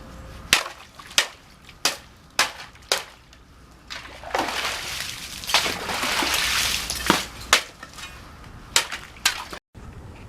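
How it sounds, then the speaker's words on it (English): Ice being chopped on a frozen backyard pond in cold winter weather: a series of sharp, loud strikes in an uneven rhythm, with wetter crunching and splashing of broken ice between blows, close by. "anytime it's down in the teens, I have ice to chop"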